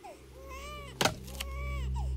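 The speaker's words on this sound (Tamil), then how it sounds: "ஏண்டி குழந்தை அழுவுது" A feverish baby cries in short wailing bursts in a Tamil film scene, near and fairly quiet, broken by a sharp bang partway through against a low background hum.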